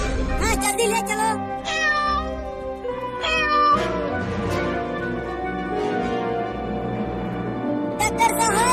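A cartoon kitten meows repeatedly in short, high, wavering cries, loud and close, with voices talking over and between the meows.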